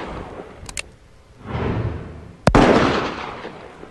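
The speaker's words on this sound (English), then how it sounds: "Even for seasoned gun enthusiasts, firing Magnums old and new makes a trip to the firing range an experience to remember." A Magnum handgun fires a single sharp, loud report at an outdoor firing range, close by. A faint click and a softer rustle come before the shot, and a ringing noise tail trails after it.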